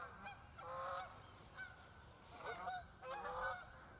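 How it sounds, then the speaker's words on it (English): Several geese honk in loose bursts, fairly close, with repeated nasal calls rising and falling over a soft outdoor background. "a lot of geese this morning, jeez."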